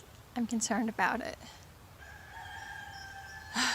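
A rooster crows in the background, drawn-out and somewhat distant, after a person speaks briefly up close.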